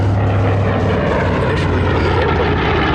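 A Consolidated B-24A bomber, the oldest B-24 in existence, runs its piston propeller engines in a loud, continuous droning roar that fills the whole stretch without a break.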